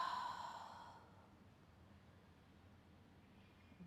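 A single slow exhale during a yoga stretch for the front hips, a soft breathy rush that fades after about a second into quiet room hiss.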